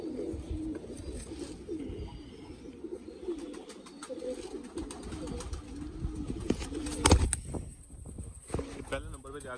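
Fancy pigeons, including Sialkoti breeds, coo softly inside a loft in Faisalabad, a steady low murmur of calls and wing shuffles running throughout, with a person talking over them.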